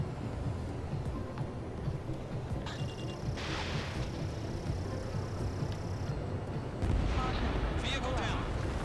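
A military anti-air radar vehicle in Ace Combat 7 is destroyed in a dense, rumbling blast, heard amid continuous engine and combat roar. A second burst of noise follows near the end, and radio voices talk over it.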